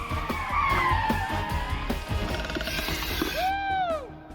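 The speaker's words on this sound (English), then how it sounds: "With the red car now in Brian's rear-view mirror, Adam's officially shaken his tail." Cars tearing around a course in a chase, tyres skidding and squealing over steady engine roar, with a rising-and-falling screech near the end; loud and close with no talk.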